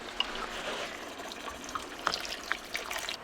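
Water streams into a pot holding pork and a knob of ginger, a soft continuous splashing trickle with faint gurgles, fairly quiet and without talk.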